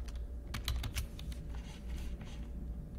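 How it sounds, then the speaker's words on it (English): Keys clatter on a computer keyboard while text is typed, a quick irregular run of light clicks over a steady low room hum, no voices. "So all you would do is just, you know, type your text"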